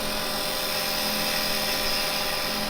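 A wood lathe turning while a carbide chisel cuts gives a steady, dense whirring drone with no change in level and no voices.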